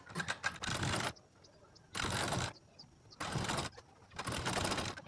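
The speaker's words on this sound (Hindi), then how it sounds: "इसके बाद इसके ऊपर सिलाई लगाएंगे।" Sewing machine stitching along the belt of a blouse, heard in three or four loud bursts of steady running, each roughly half a second to a second long, with short quiet pauses between them.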